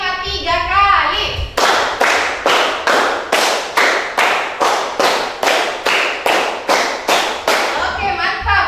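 A group claps together in a steady counted rhythm, about thirteen sharp, even claps in quick succession, loud and close, with a short stretch of a voice and voices before the claps begin.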